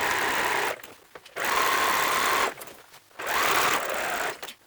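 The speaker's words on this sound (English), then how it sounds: "Where you've got your big amounts of seams, just go a little bit slower with your sewing machine." A sewing machine stitches through thick, layered seams of fabric book bags in two loud, steady bursts of whirring, separated by short pauses, with no talking.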